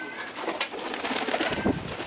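A male pigeon coos while courting, a soft, close, throaty burbling under a hissy room background.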